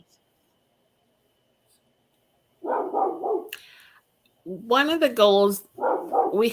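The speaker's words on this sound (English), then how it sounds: "excuse the crazy dog barking outside." A dog barks in short bursts somewhere outside, distant but clear, between and under a person speaking nearby.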